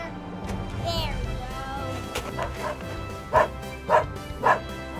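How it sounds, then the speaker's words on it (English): A dog barks three times in quick succession near the end, clear and fairly close, over a continuous noisy indoor background. "Why is he barking?"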